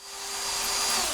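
A power driver whirs as it drives a Tapcon masonry screw into a concrete block wall, one brief rising motor whine, close and steady, with no voices.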